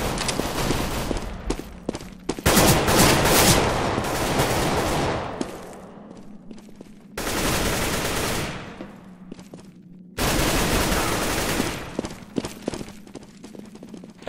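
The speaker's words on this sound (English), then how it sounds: "Throwing a flashbang." Counter-Strike gunfire and a flashbang grenade, several loud bursts of rapid automatic fire separated by quieter gaps with footsteps, all close and harsh.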